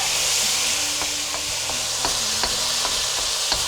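Chicken stir fry with garlic tossed in a hot pan on a home stove, a continuous close sizzle broken by regular sharp clicks and scrapes of the utensil against the pan.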